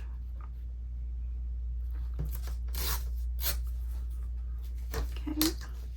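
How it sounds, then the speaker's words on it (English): Paper envelope edge being ripped off by hand during a crafting session, heard as a few short broadband rips and crinkles over a steady low hum, with a brief voice murmur near the end. "then we want to take this one and rip this edge right here"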